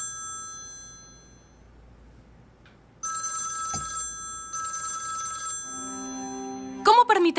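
A telephone rings in a home with a repeated electronic ringing tone in two bursts, fairly close and clear, followed by a brief louder tone at the end.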